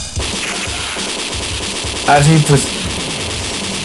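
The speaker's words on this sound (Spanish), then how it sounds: "Pucha, este es demasiado disparo." Rapid, loud video game gunfire from Metal Slug Advance on Game Boy, steady shooting with a couple of louder blasts, while a player talks over it.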